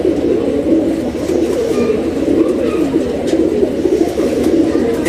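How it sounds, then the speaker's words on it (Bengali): Army line pigeons coo in a loft, a low, continuous rolling murmur of overlapping calls heard up close and fairly loud, with no speech. "এই দেখছেন ডাকতেছে"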